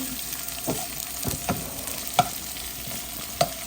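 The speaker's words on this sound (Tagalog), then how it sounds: "Ayan, halu-haluin natin." Ginataang langka, jackfruit in coconut milk, stirred in a pan: a steady close sizzle broken by several scraping strokes and a couple of sharp clinks of the utensil against the pan.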